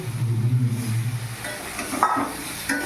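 Water poured into a pan of sizzling Sundarbans crab curry (kalia) sets off a loud hiss and frying crackle early on, easing into softer bubbling with a few clinks.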